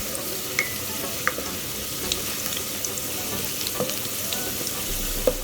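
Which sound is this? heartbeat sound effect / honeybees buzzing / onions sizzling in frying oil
onions sizzling in frying oil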